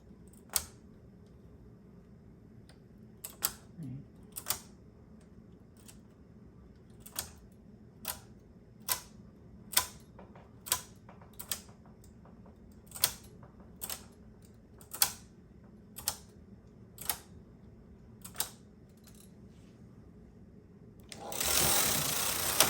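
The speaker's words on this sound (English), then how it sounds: "I'm gonna push all the needles forward" Needles on a knitting machine knitting chunky yarn are pushed forward in a run of sharp, evenly spaced mechanical clacks, close and fairly loud over a quiet background, ending in a burst of broadband rustle.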